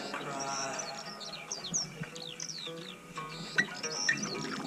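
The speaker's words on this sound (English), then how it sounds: "In the sky a bird was heard to cry." Birds call over a lake on a canoe trip in Quetico, a series of short chirps and whistled cries, faint and slightly distant.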